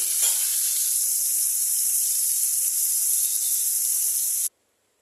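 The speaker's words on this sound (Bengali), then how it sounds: "মাছগুলোকে বেশি কড়া করে ভাজবো না" Fresh tangra fish fry in oil, a loud, dense, continuous hiss of sizzling close up that holds steady and then cuts off abruptly near the end.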